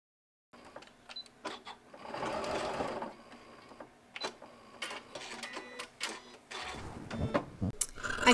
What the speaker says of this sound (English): I'm going to sew a 1/2 inch inside the lines that I marked, starting at one side and making my way around to the other